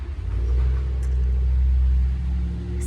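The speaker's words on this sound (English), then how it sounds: "I apologize for the loud engines" Loud, steady engine rumble dominates throughout, a deep continuous drone with a slight revving swell, close and unbroken.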